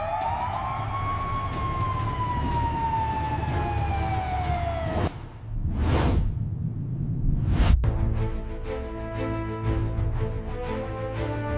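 An emergency vehicle runs with its siren on, rolling code 3: a loud wailing tone sweeps up and down, then breaks into a quick yelp and a rapid pulsing pattern over a steady engine rumble, close and continuous.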